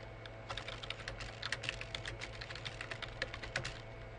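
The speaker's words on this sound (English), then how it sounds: "So, you would type the first question" Steady typing on a computer keyboard while answers are entered into an online submission box, a run of quick, close keystrokes with irregular rhythm and no talking.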